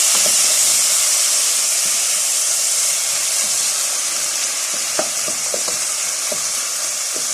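The rest of the rice goes into a big pot of Egyptian koshari, bringing a loud, continuous sizzle and steamy hiss. A run of soft taps and knocks from the pot and spoon comes in the latter half.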